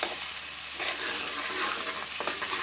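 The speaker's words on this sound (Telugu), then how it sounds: "ఈ అల్లం వెల్లుల్లి పేస్ట్ కూడా మీరు నూనెలో బాగా వేపుకోండి" Ginger garlic paste fries in oil for a cluster bean curry, a steady close sizzle with light stirring throughout and no talk.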